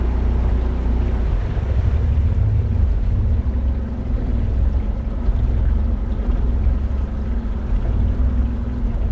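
A Suzuki DT55 outboard motor idles unevenly, running rough, with a constant low rumble close to the microphone and wind buffeting over it throughout.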